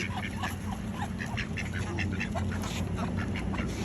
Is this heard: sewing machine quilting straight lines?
no